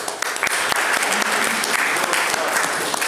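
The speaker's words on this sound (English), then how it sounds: "mega round of applause" Dense, loud applause fills a room at a Juice Plus introduction meeting in Bordon, steady crowded clapping with no pause throughout.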